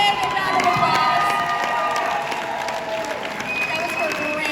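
A live country music show crowd applauds and cheers steadily, a dense wash of clapping with whoops and shouts, while a host speaks over it.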